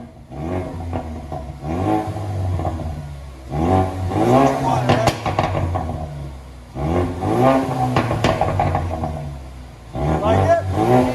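A 2018 Ford Mustang EcoBoost turbo with a muffler-delete dual exhaust revs repeatedly at close range, each rise and fall a loud, raspy roar separated by brief drops back to idle, with a little talk mixed in.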